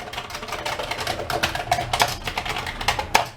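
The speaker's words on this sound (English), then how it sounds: "it has the keyboard, which is very clicky." Fingers tap the clicky keys of a Commodore VIC-20 home computer keyboard, a quick, uneven run of sharp plastic clicks close to the microphone.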